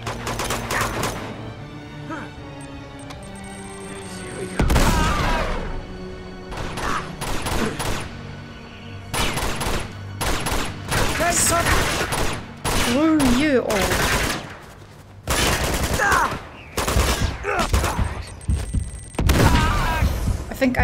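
Gunfire in the game Uncharted 2 set in Tibet: irregular bursts of shots and heavy impacts come in clusters over a low hum, loud and close, while a person talks intermittently.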